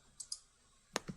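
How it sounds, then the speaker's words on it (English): Computer mouse clicks during a video-call tutorial: two faint, quick ticks, then a louder close click followed by a softer one, no talk. "hide non-video participants by right-clicking on my name"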